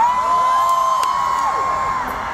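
A festival crowd at Francos Montréal 2023 cheering and shouting, a dense, loud, continuous roar of many voices with a whooping tone held throughout.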